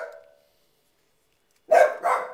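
A dog barks twice in quick succession, loud and close, after a fading sound and a short silence.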